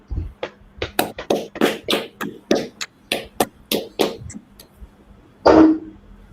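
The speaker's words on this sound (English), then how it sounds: "Clap it up." Close, crisp hand claps from a small group ring out irregularly, about twenty sharp smacks over five seconds, followed by a short voiced sound near the end.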